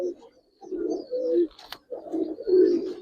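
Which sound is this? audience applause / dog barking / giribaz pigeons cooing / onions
giribaz pigeons cooing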